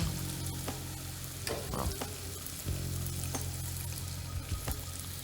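Breaded eggs frying in grape seed oil give a steady, close sizzle with brief bubbling bursts as they are lowered in, and a single short word is spoken.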